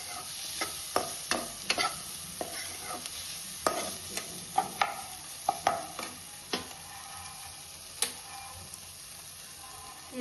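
Tomato stirred and frying in oil in a pan while cooking ellikaayi chitranna, with repeated sharp scraping clicks of the spoon over a steady soft sizzle, close and fairly quiet with no voices.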